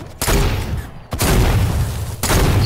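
Dense, loud gunfire and booming blasts from a Fortnite battle, with two sharp breaks in the barrage before the heavy shooting resumes.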